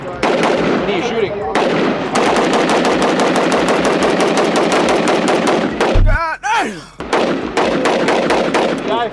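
A DSA FAL rifle firing rapidly, nearly a hundred rounds nonstop: a loud, dense stream of evenly spaced sharp shots, a brief pause early on and a short break with a different crack near the end before the firing resumes.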